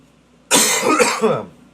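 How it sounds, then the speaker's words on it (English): A single burst of harsh coughing, close and fairly loud, lasting about a second with no talking around it. "Sorry, I apologize for the coughing."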